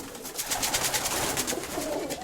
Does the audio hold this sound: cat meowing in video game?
no